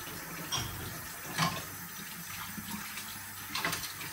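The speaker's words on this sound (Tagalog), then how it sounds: "Kailangan banlawan to" Tap water runs steadily into a sink while dishes or food containers are rinsed, a continuous close splashing stream with a few brief knocks and clatters and no talking.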